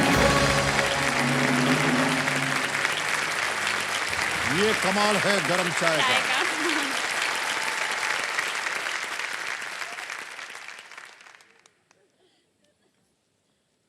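Studio audience at a televised quiz show breaks into loud, sustained applause that fills the room for about eleven seconds, with a voice speaking over it before the clapping fades out.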